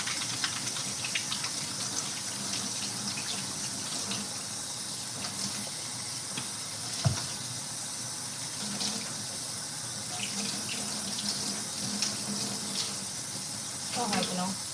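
A tap runs steadily into a sink during handwashing, a constant close hiss of water with small splashes throughout, and a voice speaks faintly beneath it.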